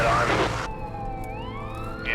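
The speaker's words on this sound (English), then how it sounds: "that's the second ambulance I've seen go by" A siren wails as an ambulance passes on a highway near Hope, British Columbia, its tone sliding in steady sweeps after a burst of loud wind and road noise, with traffic rumbling underneath.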